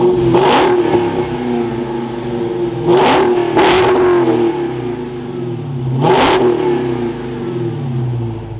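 A 2023 Dodge Charger SRT Hellcat Widebody Jailbreak's supercharged engine idles loudly up close, then roars through four quick, sharp revs, each rising and falling back to a deep, rumbling idle.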